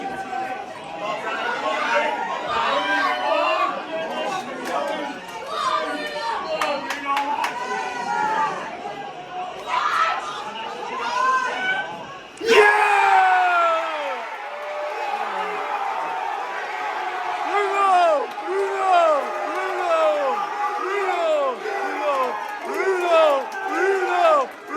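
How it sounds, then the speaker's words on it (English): A large family crowd watches Manchester United in a pub near Old Trafford, with loud overlapping chatter, shouts and excited whoops that swell into a sudden burst of cheering midway and carry on as a boisterous din. "despite all their noise, cheering United on in a pub not too far from Old Trafford"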